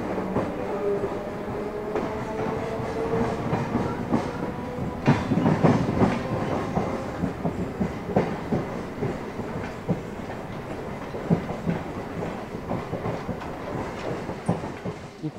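A local commuter train runs from Sealdah to Barasat across the Kolkata Circular Canal bridge, with a continuous rumbling roar and rhythmic clickety-clack of wheels over rail joints, heard from inside the carriage.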